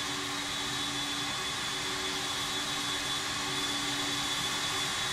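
Jet engines of a Cebu Pacific Airbus A330 after landing at Madrid airport, a steady loud roar with a whining tone held evenly and unbroken throughout.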